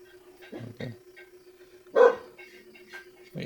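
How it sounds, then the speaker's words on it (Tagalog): A dog barks outdoors in a rural village setting, first two quick low barks and then one louder bark, over a faint steady hum. "May aso din dito."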